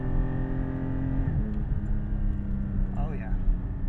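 A 2021 Porsche GT4 engine winds up to high revs on the move, a strong sustained harmonic whine heard from inside the cabin, with a person's voice briefly over it near the end.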